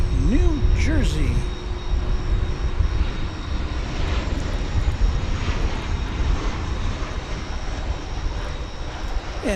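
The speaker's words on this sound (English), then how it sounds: "this UPS MD-11 is ex-Lufthansa with GE engines" A UPS MD-11 airliner with GE engines at DFW Airport, a loud continuous jet engine roar rising and shifting as it passes nearby, with brief higher whines early on.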